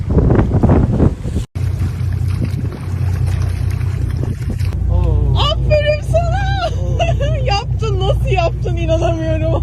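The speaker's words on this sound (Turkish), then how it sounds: "Dalgaları size şöyle gösterebilirim. Biz de sallanıyoruz." Sea waves rock a support boat during a channel swim, a loud steady wash of wind and water buffeting the microphone, with people talking over the noise throughout.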